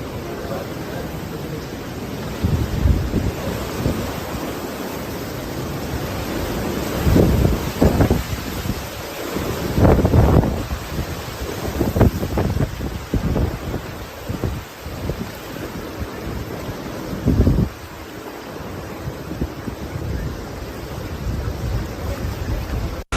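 Hurricane Helene makes landfall in Florida, its wind roaring in a steady broadband rush with heavier surging gusts and crashing surf, continuous and harsh throughout.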